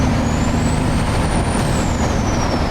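Heavy truck cruising on an Atlanta road, with a steady loud engine drone and a rising-then-falling turbo whistle high above the rumble, close and continuous with no talking.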